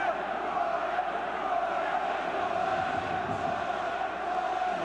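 A West Yorkshire football crowd at Bradford City v Arsenal keeps up a steady roar, a broad distant wash of voices that holds at an even level throughout.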